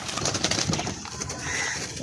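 A captive spotted dove coos softly against a noisy background, a few low, repeated hoots with no talking.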